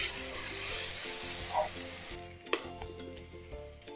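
Sliced tomato and spices such as coriander powder sizzle in a pan for a Kerala crab roast, with a steady hiss and scraping from quick stirring, a few sharp clinks of the spoon against the pan, heard close.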